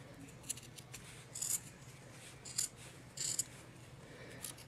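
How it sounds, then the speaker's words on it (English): Fabric scissors cut through glued material for a craft cover, a series of close, crisp snipping and rasping strokes in short bursts with small pauses between, and no talking. "I took my fabric scissors and I'm just gonna cut right in the middle"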